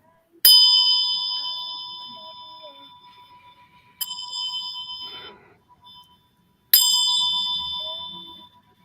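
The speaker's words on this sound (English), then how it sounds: "I'm gonna start it off with the bell." Three struck meditation bells, each a bright metallic ring that decays slowly, opening a session; the second strike is lighter and the final one rings out fully, close and clear with no talking.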